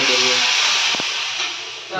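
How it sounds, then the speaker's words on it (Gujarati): A kadhi tempering (vaghar) sizzles in hot oil as a loud, steady hiss close by, easing off slightly over two seconds, with a brief thump in the middle. "વઘાર થઈ ગયો આપણા કઢીનો વઘાર."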